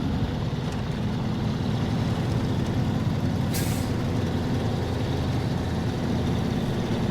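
A truck in the video game SnowRunner drives flat out with a loud, steady engine drone, and a short air-brake hiss sounds about halfway through.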